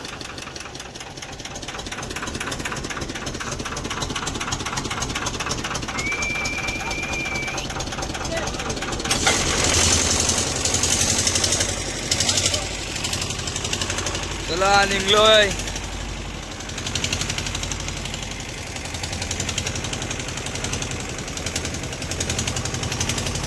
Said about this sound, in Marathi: बोट होडी चालू केलेली आहे आणि आता आम्ही तो निघालोय.